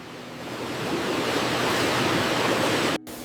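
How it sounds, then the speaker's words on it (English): High-pressure water jets spray tomatoes on a washing conveyor in a sauce factory, a loud, steady hiss of rushing water that builds slightly, then cuts briefly before resuming. "High-pressure water jets remove dirt, debris, and any surface contaminants thoroughly"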